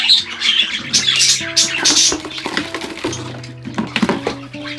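Several hand-fed baby budgies squawk and chirp close by in a busy, overlapping chorus, harsh calls repeating nonstop with brief sharp cracks among them.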